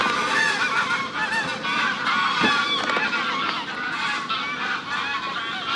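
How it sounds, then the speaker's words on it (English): Flock of geese at a fishing lake giving loud, overlapping honks and calls, a continuous close chorus of nasal cries with no voices over it. "Here come the geese."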